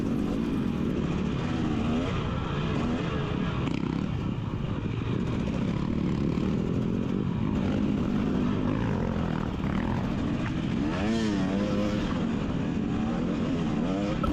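Dirt bike engines roar continuously during a GNCC Big Buck off-road race in the 250C class, one bike passing a Kawasaki rider, with close, loud engine drone and rising revs, no talk.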